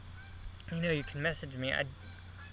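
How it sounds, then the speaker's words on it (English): Geese honk overhead in a short burst of three loud, harmonic calls, clear and fairly close, with a voice speaking briefly at the start. "Some geese just flew overhead. I don't know if you guys heard them."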